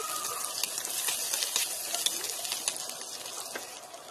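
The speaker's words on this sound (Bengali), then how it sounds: "তারপর এখানে আমি একটি তেলের মধ্যে দিয়ে দেবো গোটা গরম মশলা, 2টো তেজপাতা, আদা রসুন কুচি। একটু আদা রসুন কুচিটাকে ভালো করে ফ্রাই করে নেব।" Whole garam masala, two bay leaves and chopped ginger and garlic frying in hot oil, a steady close sizzling hiss with small crackles and pops throughout, no voices.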